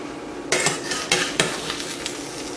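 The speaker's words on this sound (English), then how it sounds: "let me check with my spatula here" A spatula scrapes and taps a pan where a mushroom and mozzarella grilled cheese sandwich fries in butter, making a few sharp metallic clinks over a soft, steady sizzle, close up and with no talk.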